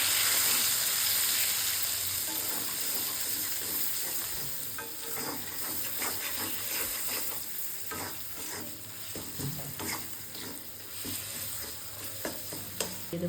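Spices, tomato, salt and turmeric frying in mustard oil for a vegetable khichudi, giving a steady close sizzle with repeated scraping and stirring of the pan throughout.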